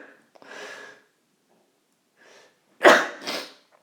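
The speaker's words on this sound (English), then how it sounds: "I'm going to sneeze" A person sneezes once, loud and close, in a burst with a brief follow-up after some faint breathy sounds in an otherwise quiet room.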